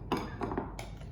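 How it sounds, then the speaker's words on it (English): Two spoons scraping and clinking against each other while shaping chocolate budino pudding, giving a few quiet metallic taps and short scrapes close by. "it's just scraping one spoon into the other to get this really cool little shape"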